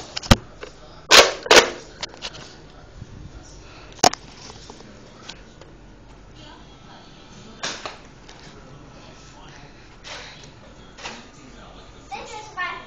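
Nerf blasters firing in a backyard Nerf war, sharp sudden pops and clicks spaced irregularly, a quick pair near the start and scattered single shots later, with children talking faintly in the background.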